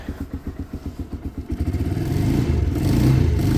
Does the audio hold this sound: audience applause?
no